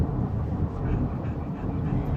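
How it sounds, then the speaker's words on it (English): A passenger train rolls past near a small pond, a steady, loud low rumble of wheels and cars holding evenly throughout with no voices. "That's the passenger train."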